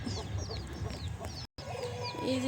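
Chickens cluck softly and repeatedly in a busy coop, with chick-like chirps scattered through and a brief dropout midway; no one speaks.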